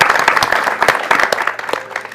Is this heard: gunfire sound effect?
no